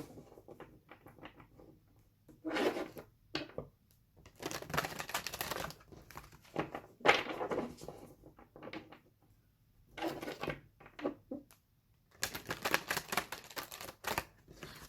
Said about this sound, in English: I'm just shuffling your cards here